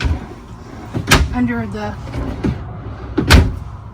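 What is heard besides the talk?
motorhome storage drawers opening and closing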